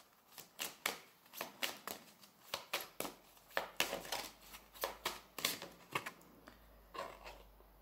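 Rapid bursts of tarot cards being shuffled, a series of crisp riffling flutters in quick succession, close and fairly quiet, with no talking.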